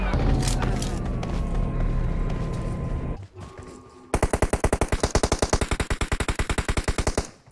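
Gunfire in PUBG Mobile: a long burst of rapid automatic shots in an even, fast rhythm, loud and close, after a stretch of mixed game noise.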